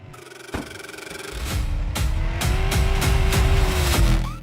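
Cars in the Car Crash Dummy Pro mobile game rev and roar close by, engine pitch climbing steadily, with tire squeals and a sharp impact early on, alone without talk.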